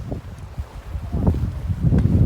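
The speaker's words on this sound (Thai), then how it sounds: "มันก็จะมีลมเป็นพักๆ เป็นบางช่วงจ้ะ" Strong, gusty seaside wind buffets the microphone in a small fishing village, a low rumbling roar that swells in bursts and grows louder and more constant toward the end.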